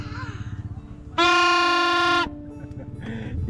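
A tricycle horn honks once in a single loud, sustained blast of about a second, cutting in over a family gathering's background chatter and then stopping abruptly before the chatter continues.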